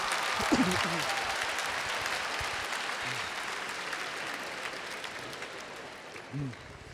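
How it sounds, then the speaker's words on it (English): Workshop audience clapping for helpers as they take their seats, a steady round of applause with brief voices cutting in near the start and end. "could you applaud for my helpers here as they find their seats?"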